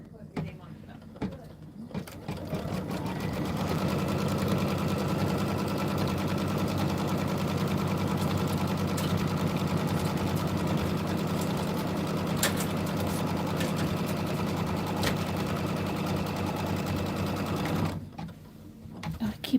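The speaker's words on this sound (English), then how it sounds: "we're going to push go, and it's going to sew those together" A sewing machine stitching quilt pieces together runs in a steady, loud, continuous whir for about fifteen seconds, starting and stopping with brief quiet handling sounds at either end.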